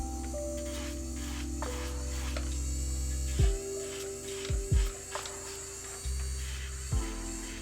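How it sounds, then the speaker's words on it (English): An electric nail drill fitted with a 240 grit sanding band buffs hard gel on nails, a steady close whine that shifts pitch as the speed changes, with short scraping contacts. "So what I'll do is I'll set my drill to about like 4 or 5 RPM for this one."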